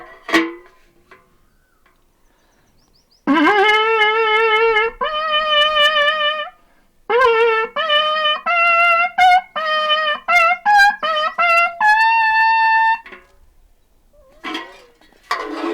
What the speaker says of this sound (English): Let's see if I can get a sound out of a watering can.